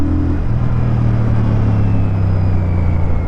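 Royal Enfield Shotgun 650 twin-cylinder bobber pulling hard in second gear, a loud, steady engine rumble with a rising drone that holds throughout, close up and with no voices.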